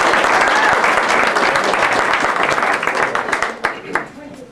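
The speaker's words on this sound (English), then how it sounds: "let's start off with a round of applause for our lovely bride" Wedding guests applaud the bride, a dense, loud burst of clapping that holds steady and then thins into scattered claps, with voices chattering underneath.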